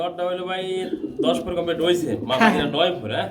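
Pigeons coo at a pigeon sale, their soft throaty calls heard close, mixed with people talking over them.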